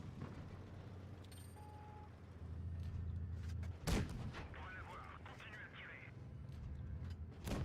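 A Somua SM tank's main gun fires once in a video game, a sharp, heavy boom that cuts through a low engine rumble and then fades into mechanical clatter.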